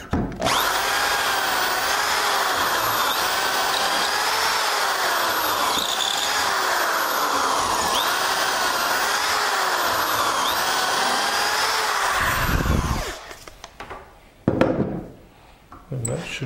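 Power drill boring dowel holes into the mitered wooden top of a coffee table, a steady loud whine running continuously for about twelve seconds before stopping, followed by brief handling knocks.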